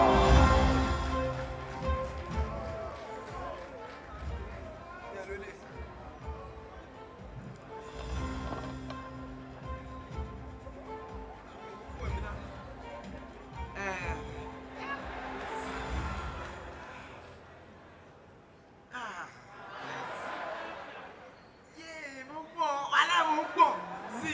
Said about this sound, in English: Ladies and gentlemen, a round of applause for Peller!